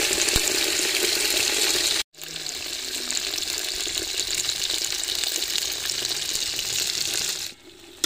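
Lasoda (gum berries) roasting in a pan for pickle, a loud, close, steady sizzle and hiss that continues for several seconds, with two brief drops in level.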